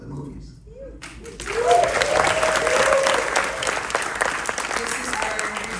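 A theater audience at a Gremlins 2 anniversary Q&A with the director bursts into loud, sustained applause after a brief voice, dense clapping filling the hall to the end.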